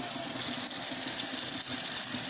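Unfiltered tap water runs steadily from a faucet into a sink during a filter test, a constant close hiss and splash with no breaks or talk.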